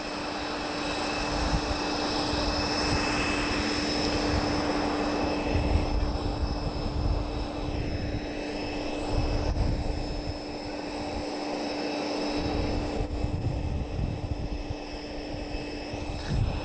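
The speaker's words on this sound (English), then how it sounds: "we've got a ground power unit for A320 just behind us" Ground power unit for an A320 running just behind at an airshow, a steady droning hum with a constant whine, broadband and moderately loud throughout, with no talk over it.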